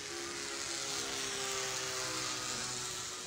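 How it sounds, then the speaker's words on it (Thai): A 3D-printed plastic RC model airplane flies at an RC club in Ayutthaya, Thailand, its small propeller motor giving a steady, tonal whine over a continuous airy rush, with no voices. "RC Printplane นะครับเครื่องบิน 3D Print นะครับวัสดุเป็นพลาสติกDLA ครับ"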